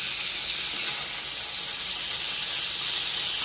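Paneer cubes frying in hot oil in a pan, a steady, even hiss and sizzle filling the whole moment without a break, close and fairly loud, with no voices over it.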